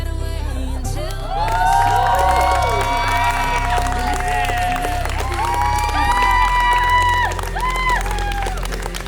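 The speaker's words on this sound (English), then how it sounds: "Will you give them a great big cheer?" Wedding guests at a solemnization ceremony cheering and whooping for the newly married couple, loud excited shouts and applause from a crowd over a low background hum, sustained for several seconds.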